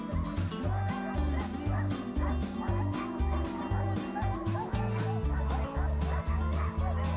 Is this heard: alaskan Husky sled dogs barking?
yes